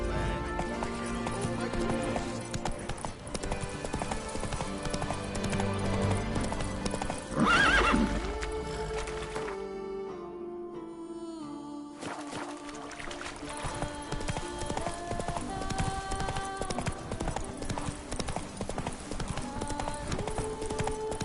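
Hoofbeats from Roach, Geralt's horse in The Witcher 3, clatter steadily alongside a clear neigh, with background game music running throughout and a brief drop-out in the middle.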